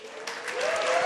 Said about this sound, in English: Let me hear clapping.